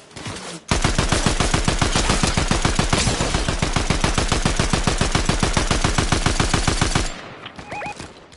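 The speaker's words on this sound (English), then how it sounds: "Getting shot behind me." Rapid, sustained automatic gunfire in the Fortnite video game rattles loud and close for about six seconds, then stops abruptly, followed by a few faint electronic beeps.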